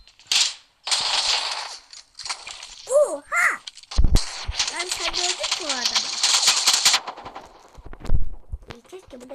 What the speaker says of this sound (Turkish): Ya adam nereden sıkıyor?